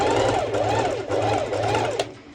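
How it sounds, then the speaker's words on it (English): A domestic sewing machine stitches fabric ruffles for a crop top, giving a close, loud, rapid rhythmic whirring and clatter in steady pulses before stopping with a short click. "I will actually be using my normal sew machine"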